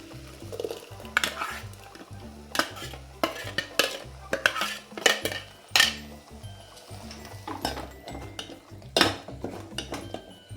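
A ground spice paste is stirred in a pan for taro leaf sambar, with repeated scraping strokes and metallic clinks of the spoon against the pan over a low sizzle, close and fairly quiet with no talking.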